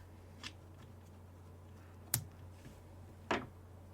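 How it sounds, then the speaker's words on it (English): Scissors snip the yarn ends on a crocheted amigurumi penguin: three quiet, crisp cuts spaced about a second apart in an otherwise still room. "Then give them both a snip."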